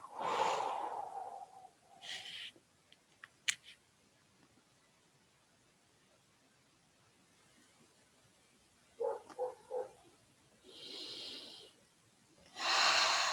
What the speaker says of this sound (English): Taking a deep breath in and release.